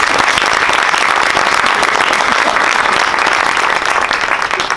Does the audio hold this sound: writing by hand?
no